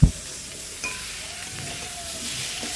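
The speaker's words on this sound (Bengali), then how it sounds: "এটা রান্না হচ্ছে মুড়ো" Fish head frying in a pan, a soft steady sizzle with a sharp clank at the start and faint stirring scrapes through a short stretch.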